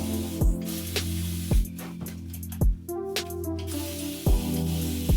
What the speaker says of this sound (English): they went ahead and sent me their RevAir spray bottle.